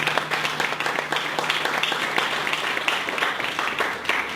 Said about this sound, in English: let's give our speaker a big round of applause